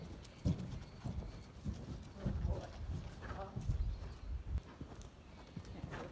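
A gaited horse moving at a running pace while learning to canter, its hooves drumming in an uneven rhythm at moderate distance, with occasional faint talk.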